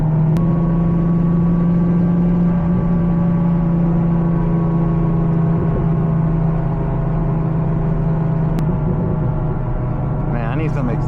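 A 400HP C5 Corvette cruises at night, its engine a steady, loud, low drone with a constant hum throughout and no sharp revving.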